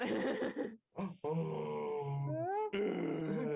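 People imitate snoring with their voices during a tabletop role-playing game session, producing drawn-out grunting, groaning inhales and exhales in several bursts separated by short pauses, close and fairly loud.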